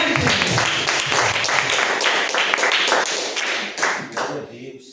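A church congregation clapping hands loudly in rhythm, a dense steady beat of many hands close and loud for several seconds, fading slightly at the end.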